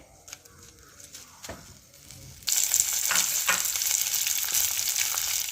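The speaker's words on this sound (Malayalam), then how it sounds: "കറിവേപ്പില കൂടി ഇട്ട് കൊടുത്ത് നമുക്കൊന്നത് വറുത്തെടുക്കാവേ" Quiet scrapes and clicks, then a sudden burst of loud crackling sizzle as curry leaves hit hot oil, continuing steadily.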